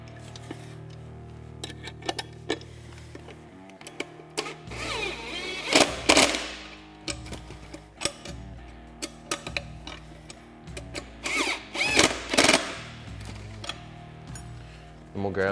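Tightening bolts and nuts on a Can-Am Defender rear view mirror mount produces close, intermittent metallic clicks and ratcheting bursts over a steady low hum.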